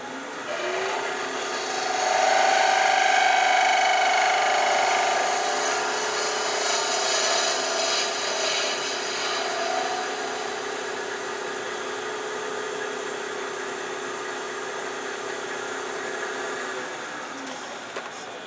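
A wood-turning lathe runs steadily while a tool cuts away wood, giving a sustained droning hum with a rough scraping texture on top. It holds at an even, fairly loud level and eases slightly toward the end.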